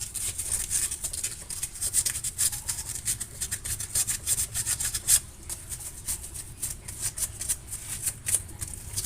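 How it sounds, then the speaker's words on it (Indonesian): Steady rhythmic scraping of sandpaper rubbing on car battery terminals, close and continuous, with brief pauses between strokes. "Jadi ini kita bersihkan dulu, kita amplas."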